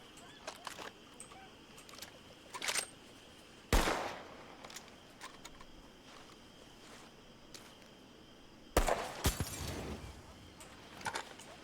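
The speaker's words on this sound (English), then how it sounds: "You could shoot that top one again." Gunshots in a Red Dead Redemption 2 roleplay server ring out as two loud, sharp blasts several seconds apart, with fainter pops and clicks in between over a steady outdoor game ambience.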